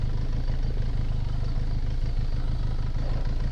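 A motorcycle engine idles steadily at close range, a continuous low rumble with no speech over it.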